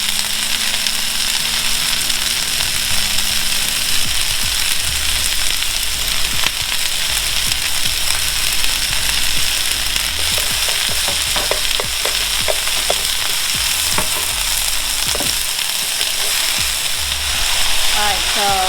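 Shrimp pad thai noodles with sauce are stir-fried in a hot pan, giving a constant loud sizzle broken by scraping and clattering strokes of the spatula as the noodles are tossed.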